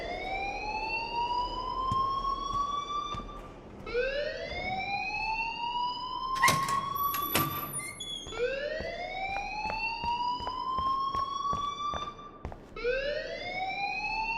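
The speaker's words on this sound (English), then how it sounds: "please turn off that alarm since that's your job" A school alarm in the Life is Strange video game rings loudly in long rising electronic sweeps that repeat in waves, broken by a few sharp clanks, with no talking over it.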